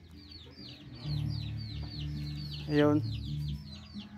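Native chickens cluck and chirp steadily near a chick coop, with soft high peeping throughout and a short louder call near the end, while someone talks over them.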